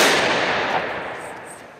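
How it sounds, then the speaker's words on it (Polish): A rifle volley fired as an honour salute at a May 3rd remembrance ceremony at a monument in Radymno, Poland: one sharp, loud outdoor crack at the start whose reverberation trails away over the next second and a half. "Do salwy honorowej."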